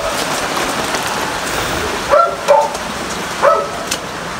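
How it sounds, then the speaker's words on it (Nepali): Steady rain falls outdoors in Nepal, a constant broadband hiss throughout, with a few short dog barks or yips breaking through midway. "म भिजिसकेँ पानी पर्दैछ"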